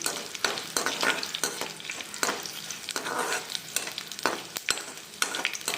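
Mustard seeds, cumin and broken dried red chilies fry in a hot pan with oil, giving a steady close sizzle broken by sharp crackles and pops and occasional scraping stirs.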